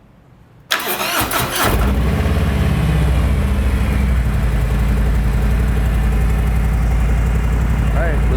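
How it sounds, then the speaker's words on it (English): A motorcycle fitted with a Cobra FI2000 PowrPro fuel management system cranks and fires up, then settles into a steady, close, even idle that runs to the end. "I'm going to start the bike, make sure everything is connected properly."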